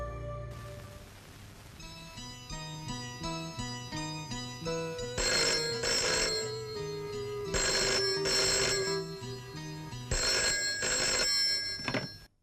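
A telephone rings at a club, its electronic ringtone repeating in a steady, loud pattern of tonal bursts for about twelve seconds, with no voices over it.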